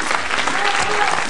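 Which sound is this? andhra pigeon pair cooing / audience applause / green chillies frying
audience applause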